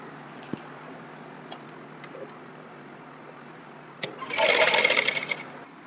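Sewing machine stitching a seam on Afghani pant fabric, a brief burst of rapid whirring stitches about a second long after a few light clicks, close by.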